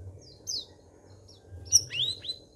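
A sooty-headed bulbul (cucak rawis) gives a few short, bright chirps and whistled calls, fairly close, over a steady low background hum, with no talking.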